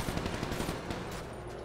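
Rapid bursts of automatic gunfire in a video game, a dense rattling volley of closely spaced shots at steady loudness with no talk over it.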